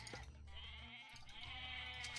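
Goats bleating in the real-time strategy game Age of Mythology, a few wavering bleats close by over game music.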